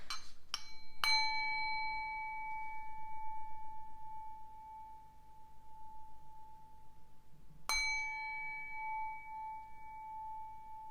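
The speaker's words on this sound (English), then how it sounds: "I'm gonna ring the bell a couple times" A small bell is struck three times in quick succession, then its clear tone rings out and slowly fades before a single further strike rings again, alone in a quiet room.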